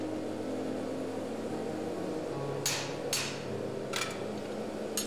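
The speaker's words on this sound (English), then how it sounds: "The power hammer then allows me to make quick progress and forge out the tang to an even width and much more length." A power hammer forges out a knife tang in a blacksmith's shop, a steady mechanical drone broken by a few sharp, loud metallic strikes in the second half.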